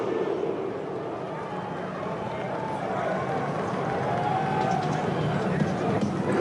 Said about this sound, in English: Now we have the Viking row with Norway.